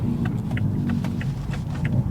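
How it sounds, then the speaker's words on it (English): A Toyota Supra Mk5 engine, just fitted with a carbon fiber steering wheel, rumbles low and steady right after starting, heard close from inside the car, with a few faint clicks over the idle. "reach in and start the car"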